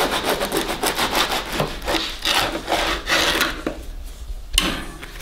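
A knife saws through a crusty ciabatta loaf in repeated rasping back-and-forth strokes, close and fairly loud, slowing toward the end with a final sharp cut; no talking.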